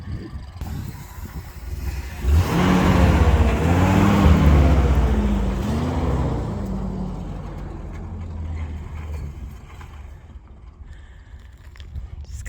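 A 1957 Chevy car rolling from a standstill onto asphalt, its engine swelling from quiet idle into a loud, rising run that peaks briefly and then fades back to a low idle.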